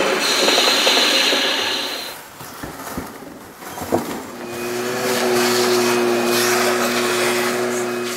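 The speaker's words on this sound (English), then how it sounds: "Some of that noise you hear is the chips getting caught between the boring bar and the bore." Boring bar cutting inside a bore on a wood lathe converted to CNC, with chips caught between bar and bore: a loud continuous machining roar with grinding, rattling chatter in the middle and a steady whining tone settling in later.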